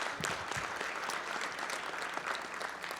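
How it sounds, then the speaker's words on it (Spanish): Members of a weekly youth political assembly clap together in a fairly faint, even patter of many hands, heard from some distance with no talk over it. "me apoyan con un aplauso para los compañeros y las compañeras"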